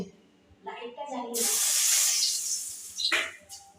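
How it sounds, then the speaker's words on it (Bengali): Tangra fish, full of roe, fry in hot oil that spits, making a loud, steady sizzling hiss that swells up after a brief voice and a few clatters at the start, then fades slightly. "ট্যাংরা মাছ ভেজে নিচ্ছি ট্যাংরা মাছগুলি ডিম পেটে ডিম হয়ে গেছে তো একটু তেলে ছিটকাচ্ছে"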